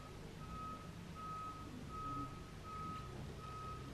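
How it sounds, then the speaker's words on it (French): Backup beeps from a reversing truck pulse steadily, five evenly spaced tones heard at a moderate distance over a low engine rumble and outdoor ambience, with no talk. "Il y a un camion qui recule là."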